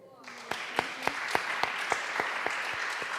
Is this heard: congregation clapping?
yes